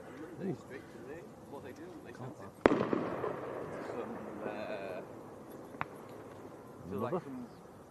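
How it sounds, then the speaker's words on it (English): Fireworks go off near Leeds Bradford Airport: one sharp nearby bang followed by a rumbling tail and a fainter pop later. People talk quietly throughout. "Putting on a little firework display for us."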